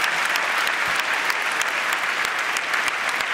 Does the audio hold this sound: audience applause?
yes